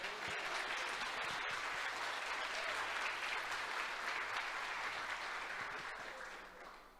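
Steady, dense applause from a large crowd, loud and sustained throughout, tapering slightly at the very end.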